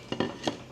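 Egg and eggplant stirred together in a bowl for tortang talong, a few short scraping clinks of a utensil against the bowl, close and fairly quiet.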